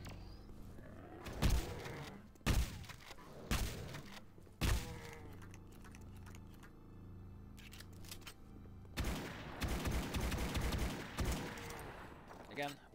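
Shotgun blasts in Duke Nukem 3D total conversion Imagination World, several loud booming shots at irregular intervals, then a denser burst of rapid firing, with game ambience between.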